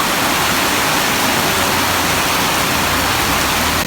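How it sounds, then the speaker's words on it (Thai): Heavy rain pours down as a dense, loud, unbroken hiss with no pauses and no voices. "ฝนก็จะยิ่งตกหนักมากขึ้นเท่านั้นนะคะทุกคน"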